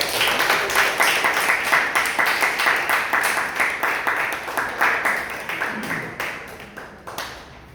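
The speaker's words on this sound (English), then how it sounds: "Here we go, round of applause for her." An audience at a Toastmasters club meeting in Jakarta breaks into sustained applause, dense rapid clapping from a roomful of people that holds steady, then thins and fades toward the end.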